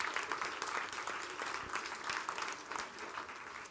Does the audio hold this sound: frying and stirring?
no